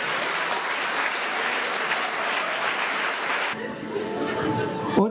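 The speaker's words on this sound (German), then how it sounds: "Sie dürfen ruhig klatschen, meine Damen und Herren." An audience in a school hall at a hypnosis show claps in steady, dense applause for several seconds, then it quickly dies away as someone speaks.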